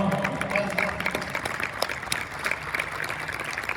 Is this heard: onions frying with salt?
no